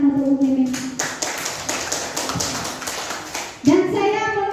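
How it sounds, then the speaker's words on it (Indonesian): An audience at a teachers' program event claps in a dense burst of hand claps for several seconds, with a voice briefly heard at the start and end. "Tepuk tangan untuk Ibu Mimin."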